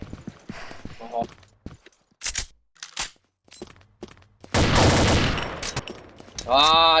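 Gunfire in the online shooter Combat Arms Reloaded on the Ghost Town map, with scattered bursts of shots early on, then a dense loud volley of rapid fire near the end, mixed with other game effects.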